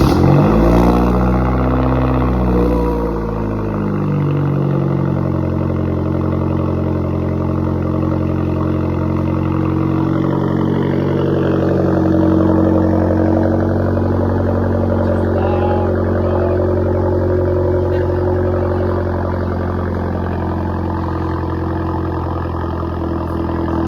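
A Genesis car fitted with a downpipe and a muffler resonator delete roars up through a loud rev at close range. It then settles into a deep, steady, throbbing exhaust drone that holds for the rest of the time.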